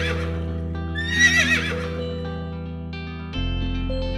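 A horse gives one clear whinny of about half a second over a bright children's alphabet song with steady backing music.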